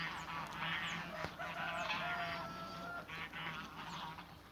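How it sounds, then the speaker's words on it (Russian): Geese honking outdoors near a house in the countryside, repeated nasal calls from a flock at moderate distance, faint and overlapping over a steady background hum. "Пошли вон гуси."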